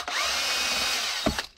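A power drill bores into a homemade Walther P99 sidecar holder, a steady close whine running about a second and a half before cutting off with a short thump as the bit clears.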